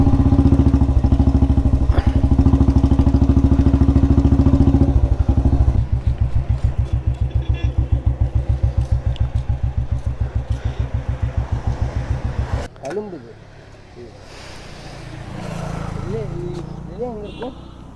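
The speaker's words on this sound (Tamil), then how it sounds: "நம்மளோட புல்லட்டில் வந்து பார்த்திங்கன்னா ஸ்டார்டிங் ட்ரபிள் ஆயிடுச்சுங்க" Royal Enfield Bullet motorcycle engine with starting trouble, chugging loudly and close for about twelve seconds with a steady thumping beat before cutting out, leaving quieter background sound and faint speech.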